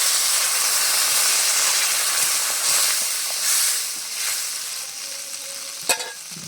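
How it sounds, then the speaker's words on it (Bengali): Hot pan of fish sukto with telakucha greens and small fish takes a pour of water, giving a steady loud hiss and sizzle throughout, with a brief sharp knock near the end. "পরিমাণ মতো জল দিয়ে দিচ্ছি"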